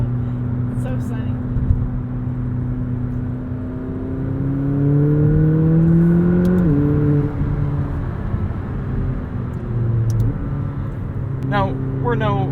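A 2020 McLaren 570S Spider pulls hard up a hill, its engine note climbing steadily through the gears in a loud, rising, in-cabin drone with brief shifts. Voices talk over it.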